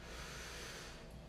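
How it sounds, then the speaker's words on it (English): A long, breathy exhale during a power yoga session, close and steady, with a soft rushing hiss that fades slightly toward the end. "Big breath in. Exhale."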